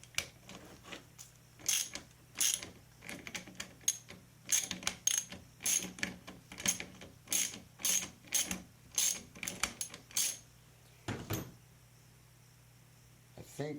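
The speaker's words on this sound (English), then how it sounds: "So use a socket, bust that loose, pretty easy, it's not crazy tight" A socket wrench ratchets a bolt loose on a Manitou Markhor mountain bike suspension fork, with about twenty crisp, close bursts of metallic clicking in a steady rhythm that then stops.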